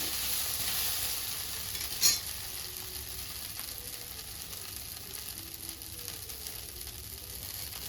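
A dosa cooks in oil on a pan with a steady, close sizzle. A single sharp scrape or tap lands early on, then the frying hiss carries on evenly.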